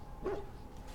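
A puppy in the fantasy role-playing game Dragon Age: Origins gives a single short, soft whimper, faint and brief against a low background hum.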